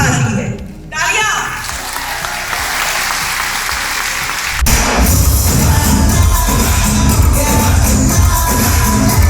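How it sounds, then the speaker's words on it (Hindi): A seminar crowd at a motivational event bursts into applause, loud and close after a brief dip, swelling into heavy clapping with music and cheering voices mixed in. "तालियां।"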